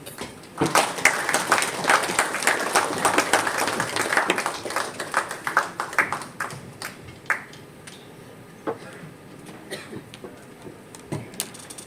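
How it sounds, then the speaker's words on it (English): Audience applause at an award ceremony, with dense clapping that swells loudly in the first few seconds and then thins into scattered individual claps toward the end. "Please give a big round of applause to Spruce Up."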